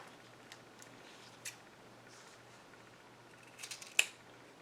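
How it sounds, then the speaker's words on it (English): Scissors snip lace string for a gift bag handle, a few faint cuts ending in one sharper, louder snip near the end. "So I'm just going to cut down here."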